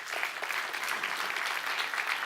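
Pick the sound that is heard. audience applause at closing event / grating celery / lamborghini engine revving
audience applause at closing event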